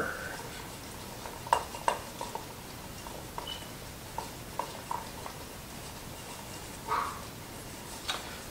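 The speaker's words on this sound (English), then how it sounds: "And we get to stir this together." A spoon stirs a chickpea, red pepper and bulgur bowl mixture, giving scattered light scrapes and clinks against the bowl over about eight seconds with a faint background hum.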